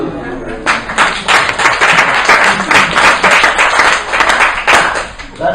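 Audience applause following a magic trick at a humanist society talk on alternative medicine, a sustained, loud burst of many hands clapping that swells quickly and holds steady for several seconds before tapering.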